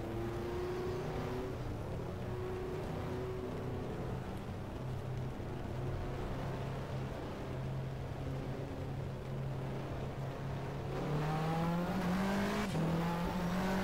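Race car in the BTCC 1997 video game pulling out of the Donington pit lane, a steady loud engine drone with shifting pitch that climbs as it accelerates toward the end, heard alone.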